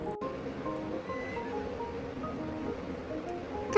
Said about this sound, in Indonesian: Lagi ngasih tahu kudanya biar suruh jalan.